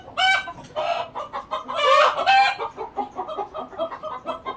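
Loud, close hen cackling after laying an egg, a run of harsh, repeated squawks in uneven bursts that taper into quicker, softer clucks.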